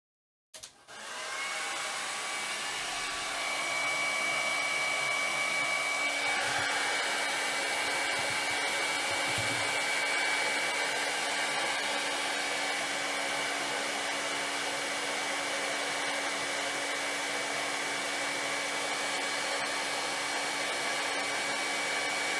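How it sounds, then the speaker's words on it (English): A hair dryer blows hot air onto a small temperature sensor, switching on abruptly and then roaring with a steady, loud whooshing drone and a faint whine for the rest of the clip. "I'm going to blow hot air on this temperature sensor and we'll see what happens"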